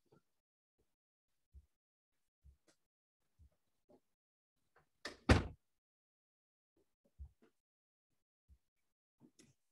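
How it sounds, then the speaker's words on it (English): Door closed indoors: scattered soft knocks and thuds, then one louder thump near the middle, all faint and sparse in a quiet room with no talking. "One moment, I'm going to close the door."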